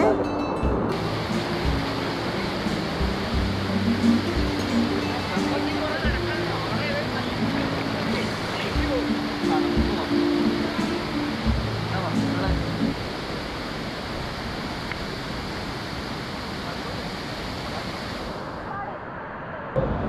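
Ezharakund waterfall in Kannur roars as a steady, broad rush of falling water, loud and continuous throughout with a low wind-like rumble and faint talk underneath.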